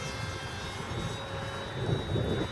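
FunJet RC model airplane passing low overhead, a continuous high whine of its motor with a steady hiss that swells slightly toward the end.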